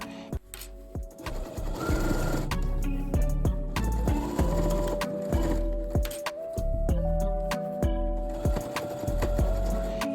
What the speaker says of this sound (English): pin it all in place and sew around the armhole with a 1 cm seam allowance